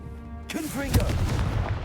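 An explosive blast from the Confringo spell in a Harry Potter video game, one sudden bright burst followed by a rumbling decay, with a voice speaking over the onset.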